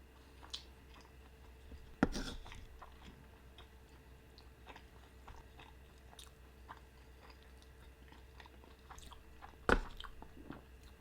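Close, quiet chewing of a thick-cut pastrami sandwich with coleslaw and Russian dressing, soft moist mastication broken by two sharper bites or crunches, one early and one near the end, with no talk.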